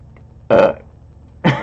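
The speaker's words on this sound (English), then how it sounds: "It sounded like such a forced burp." Two short, close burps, deliberately forced out during a casual evening livestream, separated by about a second of quiet room tone.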